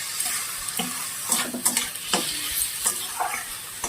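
Grapes stirred with spices in a pan over a low gas flame give a series of sharp spoon scrapes and clinks over a soft sizzle, irregular and close.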